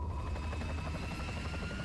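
In the Resident Evil 4 game, a helicopter's rotor beats in a fast steady low chop with a faint whine above it, continuous and moderately distant, with no talk.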